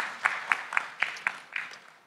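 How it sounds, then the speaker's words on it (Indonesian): A small group clapping at a talk show, with sparse, loosely synchronized hand claps in a steady rhythm that quickly thin out and fade. "tepuk tangan buat Mas Dima teman-teman"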